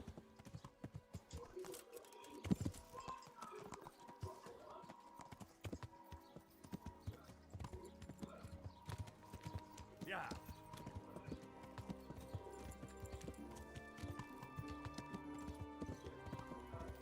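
Horse hooves clip-clopping in the medieval game Kingdom Come: Deliverance, a steady rhythmic trot of soft thuds under a voice, with occasional louder clicks mixed in.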